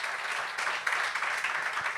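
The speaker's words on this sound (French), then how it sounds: "On applaudit Seb." Studio audience applauds for Seb on a talk show, a steady wash of clapping filling the whole moment at even loudness.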